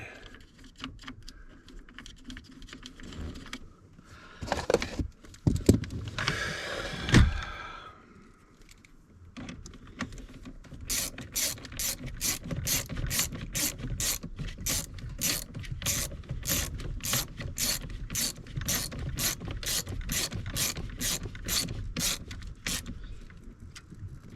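Ratchet wrench tightening a bolt on the fuel pump relay power wire of a 2004 Ford F-250 Super Duty V10: a fumbling, clattering stretch, then a long steady run of rapid, evenly spaced ratchet clicks, close up.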